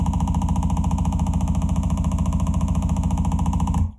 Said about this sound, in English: I'm going to demonstrate self-oscillation with the gain feedback.